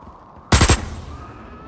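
A short burst of rifle fire in the game Osiris: New Dawn, three rapid close shots in about a quarter second followed by a fading tail, alone with no talk.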